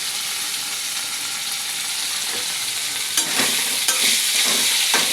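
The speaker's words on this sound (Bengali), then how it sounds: "ভাজা করছি আমি।" Fish fries in Fortune mustard oil with a continuous close hiss, and a few sharper spatters and stirring clicks come in toward the end.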